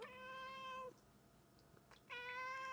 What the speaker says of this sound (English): Your meowing doesn't make it go any faster.